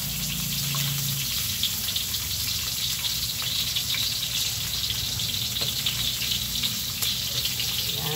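Onions sauté in a small amount of hot oil for sweet and sour fish, giving a steady, close, crackling sizzle that continues evenly throughout with no talking.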